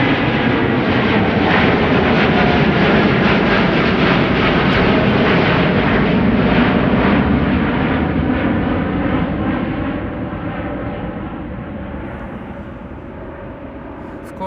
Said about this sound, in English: The Dreamliner to Hyderabad, one of the last departures before the reopening of 18 left